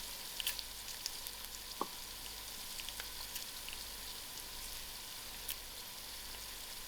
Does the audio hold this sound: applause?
no